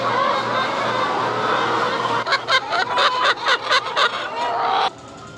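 Chickens on a farm that have wandered into a calf pen give a run of rapid, loud clucks and squawks close by, with busy background noise before and a quieter tail afterward.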